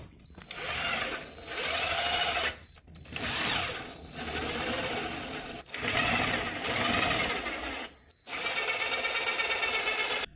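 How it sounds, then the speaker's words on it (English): A power driver whines in several long bursts as wood screws go into a sewing workstation table, each run rising and cutting off with short pauses between, close and steady. "we're going to put our wood screws in"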